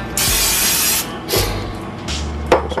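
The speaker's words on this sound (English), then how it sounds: "Some cooking spray." An aerosol can of cooking spray hisses onto a very hot pan in one long burst, followed by two shorter spurts, close and loud, with no voices.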